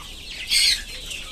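A domestic hen gives a short, close cluck, a single brief call rising above low barnyard background noise.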